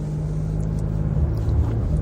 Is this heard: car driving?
yes